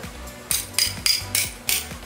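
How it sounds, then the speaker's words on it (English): An axe chops into a performance bowling ball, giving five sharp, hard strikes in a loose, quick rhythm, close by, with quiet gaps between the blows. "Then we're gonna try the axe."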